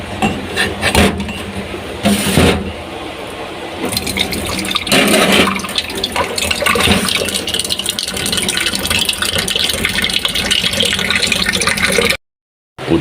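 Tap water gushes and splashes into a bowl to soak and cool boiled eggs in a home kitchen, a loud continuous rushing pour with sloshing bursts, ending abruptly.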